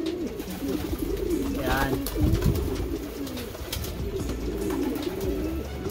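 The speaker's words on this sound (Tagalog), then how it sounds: "Gandang kalapate." Pigeons coo in soft, repeated low calls, with other birdsong in the background and people talking over them throughout.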